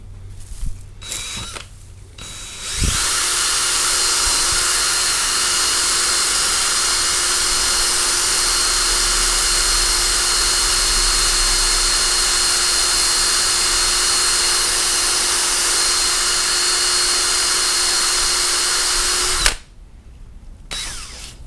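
Power tool sanding carbon off a drum shell during a BB shell replacement, a loud steady high-pitched whine running unbroken for about seventeen seconds after a few short starts, then cutting off abruptly.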